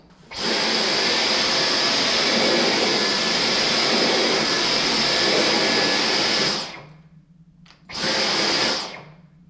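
A Dyson V9 cordless vacuum cleaner runs loud and close with a steady, high-pitched motor whine for about six seconds, spins down, then briefly starts up again before cutting off.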